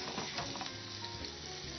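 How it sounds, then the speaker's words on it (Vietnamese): Tofu pieces frying until golden in a pan, a steady close sizzle and crackle with faint stirring, soft overall and without any voices. "sẽ chiên vàng miếng đậu hũ này cho anh"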